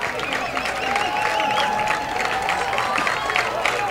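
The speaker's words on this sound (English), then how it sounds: "Everybody clapping." Fans at a minor league baseball game at Regency Furniture Stadium keep up dense, steady applause. Scattered cheers rise from the crowd throughout.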